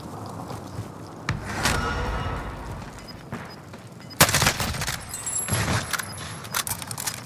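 Video game gunfire comes in sharp bursts of rapid shots, some close and loud and others more distant, over a busy background of clatter and movement.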